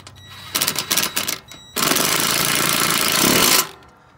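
An impact wrench drives small bolts on a Craftsman T2400 mower deck: a close, loud stuttering rattle in short bursts, followed by a sustained hammering run of about two seconds, then it stops.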